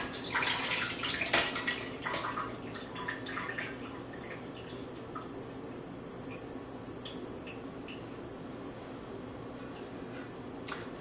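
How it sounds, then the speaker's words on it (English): Fat and drippings are poured into a pot of bone broth, making soft splashing and dripping near at first, then trailing off into faint scattered drips and small clinks in a quiet kitchen. "I'm going to take all of my fat and drippings and pour them into the pot."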